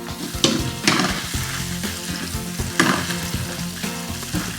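Pork stir-frying in a wok for Thai wide rice noodles in gravy, a steady loud sizzle broken by sharp bursts of scraping and tossing roughly every second, close up with no talk.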